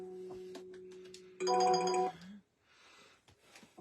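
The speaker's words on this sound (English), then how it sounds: "Sorry about the ringing." A telephone ring tone sounds as a sustained tone, then a brighter, louder burst of ringing lasting about half a second, quiet and somewhat distant indoors.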